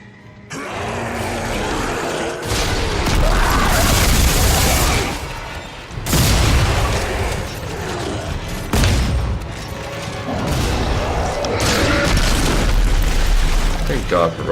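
Rocket explosions from the video game Dead Space 3 boom repeatedly in loud, heavy bursts, several in a row, while players talk over the action.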